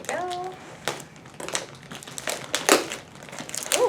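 Plastic wrapping peeled off a large orthopedic dog bed, loud close crinkling and crackling in bursts, with a brief voice at the start.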